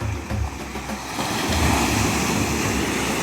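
Rough sea waves at Estanza Beach, a steady broadband roar of surf with wind buffeting the microphone, swelling slightly louder after the first second and continuing without speech.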